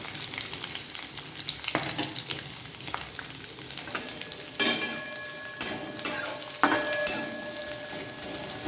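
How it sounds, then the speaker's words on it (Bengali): Onion fries in a pan for a pumpkin mash, a soft continuous sizzle punctuated by several sharper stirring scrapes of a utensil against the pan, with no talk. "পেঁয়াজটা একটু ভাজা ভাজা করবো"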